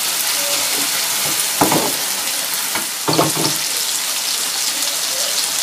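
Onions, tomatoes and carrots fry in a pan with a steady close sizzle, broken by two short bursts of stirring or scraping, loud and with no talk.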